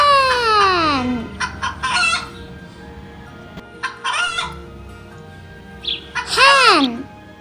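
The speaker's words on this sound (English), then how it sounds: "Hen." A hen clucks and crows in several loud, close bursts, the calls rising and falling over roughly seven seconds with short pauses between them.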